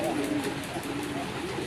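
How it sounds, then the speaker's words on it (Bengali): A male Rajgolla pigeon gives a short, low, droning coo, close and moderately loud over faint background noise. "এটি হচ্ছে একটা নর, রাজগোল্লা নর প্রচুর ডাকাডাকি করে"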